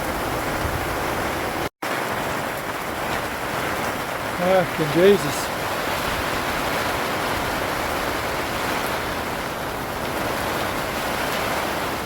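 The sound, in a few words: heavy rain pouring down at an outback campsite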